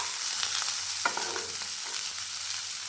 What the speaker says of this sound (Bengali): সবজিগুলোকে ভেজে নিতে হবে।